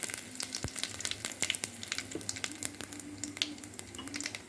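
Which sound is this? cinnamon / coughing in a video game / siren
cinnamon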